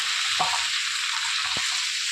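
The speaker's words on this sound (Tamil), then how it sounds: "வெங்காயம், தக்காளி, இந்த நறுக்கி வச்ச காய் எல்லாத்தையும் போட்டு கொத்தமல்லி எல்லாம் போட்டு நல்லா வதக்கிறேன்" Onions, tomatoes, chopped vegetables and coriander sauté in a home cooking pan, giving a steady hiss of sizzling with two brief stirring scrapes, close and continuous, no voices.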